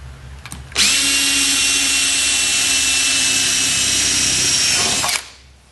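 A power drill runs continuously for about four seconds, boring holes in a golf cart dashboard, loud and steady with a high whine, starting and stopping abruptly.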